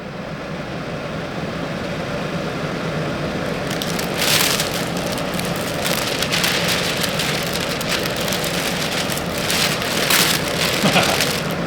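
A Vevor 550 CFM air scrubber runs at full speed, producing a steady, dense broadband whoosh of rushing air that holds nearly constant for the whole stretch, close and moderately loud.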